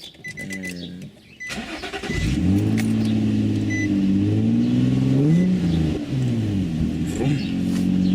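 A car engine starts and revs up, the motor rising and holding a steady mid-pitched roar with small pitch swells, fairly close and steady throughout.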